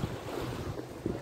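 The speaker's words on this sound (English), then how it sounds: "Can you hear the sea lapping up there, the Adriatic lapping up against the harbour wall?" Soft wash of Adriatic sea water lapping against a stone harbour wall, a steady low surf murmur with gentle surges, faint and continuous with some wind rumble.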